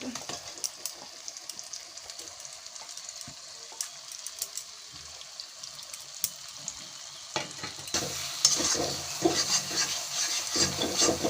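Spiced boiled chickpeas for cholay frying and being stirred in oil in a pan, a soft steady sizzle with scraping that grows louder and busier toward the end.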